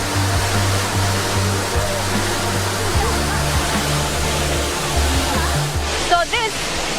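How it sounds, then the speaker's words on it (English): Water pours steadily into the basin of a geothermal power plant cooling tower, a continuous broad rushing roar layered over a low, droning machinery hum. "it is exhausted into the cooling tower basin and condensed back to water."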